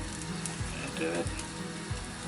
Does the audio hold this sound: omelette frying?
yes